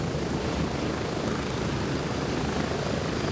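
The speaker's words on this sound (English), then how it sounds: "They've actually sped the helicopter journey up." Inside the video game Gray Zone Warfare, a helicopter flight gives a steady, loud rotor and turbine drone that fills the scene evenly with no voices.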